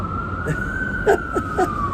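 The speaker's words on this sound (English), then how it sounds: "You hear the sirens? That's New York, okay?" An emergency vehicle siren wails steadily in New York City, a single sustained tone slowly sliding in pitch, with brief speech fragments popping over it.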